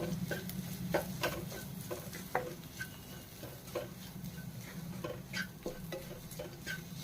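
A utensil stirs leftover rice with corn and vegetables in a pan, giving soft scrapes and light clicks over a low sizzle, close and fairly quiet with irregular strokes.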